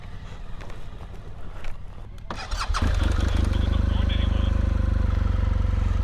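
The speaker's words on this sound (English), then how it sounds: "Riding the bike over this grass is a very strange feeling." A motorcycle engine starts after a moment of speech and settles into a loud, steady, close idle-to-running rumble, about to ride over soft grass at a campsite near Lake Vyrnwy in Wales.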